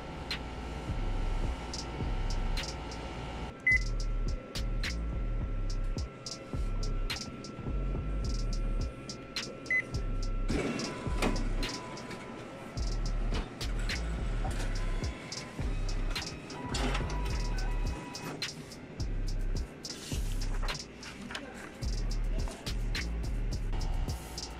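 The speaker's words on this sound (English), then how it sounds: "print the configuration page before you update the firmware" A Ricoh printer runs off a configuration page, giving a steady mechanical whir and rumble with occasional clicks and feed clatters, fairly close and continuous with no talking.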